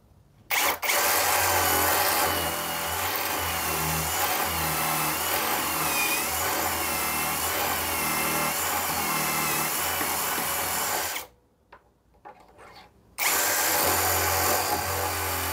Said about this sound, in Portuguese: agora eu vou acionar a furadeira e começar o furo